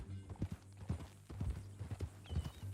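Horse hooves clip-clop in the Western open-world game Red Dead Redemption 2, a steady walking rhythm at moderate distance with soft ambient game sound around it.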